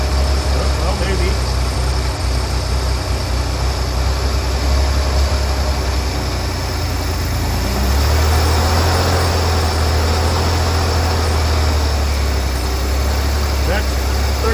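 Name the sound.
Vauxhall Corsa engine running at 1,300 RPM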